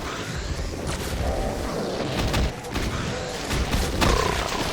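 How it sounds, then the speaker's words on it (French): BFG weapon firing in a Doom WAD, an unchanged BFG with a weak, damp-sounding shot: a few muffled booming blasts and crunchy impacts over a continuous noisy game soundscape, with no one talking over it. "le BFG, il n'a absolument rien de changé,"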